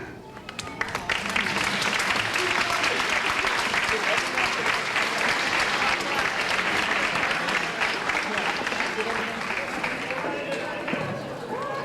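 An audience applauds and cheers for a group of young women graduating from a program, the dense clapping swelling loudly after a brief start and holding steady, with whoops and voices mixed in.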